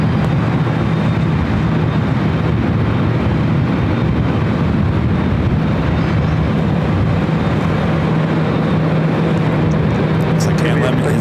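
An airliner spools up for takeoff on runway 24 left at LAX, a loud, steady jet roar filling the whole stretch with a voice talking over it.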